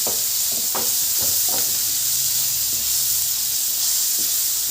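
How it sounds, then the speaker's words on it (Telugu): A green chili sizzles in hot oil with onion for prawn curry, making a steady close hiss and crackle throughout, with a few soft stirring knocks early on and no voices. "అందులోనే ఒక మిర్చి ఫ్రై చేసుకోవాలి."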